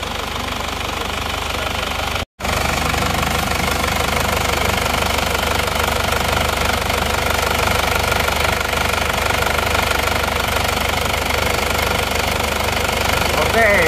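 A cold motorcycle engine with crankcase blow-by runs at a steady idle, loud and close, with a continuous rough knocking chug and one abrupt brief dropout near the start.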